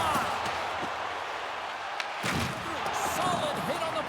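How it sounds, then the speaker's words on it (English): A solid body check in a junior ice hockey game knocks the puck off a player's stick, a sudden thudding impact against arena crowd noise, with a commentator talking over it. "Solid hit on the play, and that knocks the puck off his stick"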